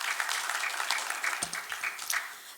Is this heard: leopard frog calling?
no